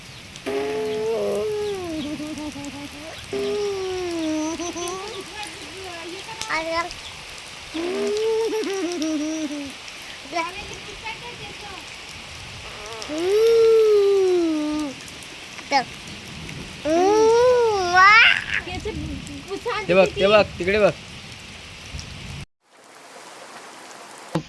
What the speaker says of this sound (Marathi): गावी खूप पाऊस आहे